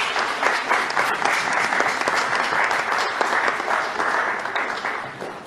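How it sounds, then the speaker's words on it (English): An audience at a political debate between JLP and PNP teams applauds with sustained, dense clapping that fades slightly toward the end. "You can clap."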